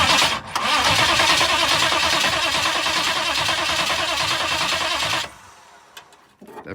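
A 6.5 turbo diesel Suburban cranks and fires into a loud, rough, rattling run close by, then drops away abruptly to quiet after about five seconds.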